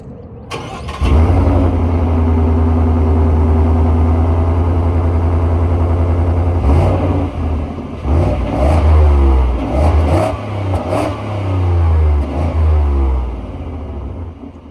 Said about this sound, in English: I'm gonna give a few revs for you guys